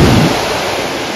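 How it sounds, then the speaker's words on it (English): Slow, mushy breaking waves on a Great Lakes shore, a continuous close wash of surf noise that swells briefly at the start and then eases off. "Nothing big at all, slow, kind of mushy breaking waves"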